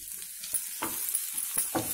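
Lunch box curry frying in a pan makes a steady, close sizzle, with soft scrapes of stirring breaking through every few moments.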